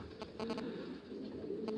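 Racing pigeons coo softly inside a loft, with a few faint, repeated throaty calls over a steady low background hum.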